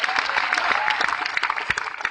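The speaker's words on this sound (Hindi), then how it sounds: "तालियां बजानी हो तो जी खोल के बजाओ, कंजूसी मत करो।" Applause from an audience at a business seminar in India, a dense steady patter of many hands clapping for about two seconds with no talk over it.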